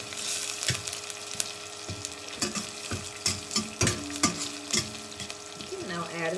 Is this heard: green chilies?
yes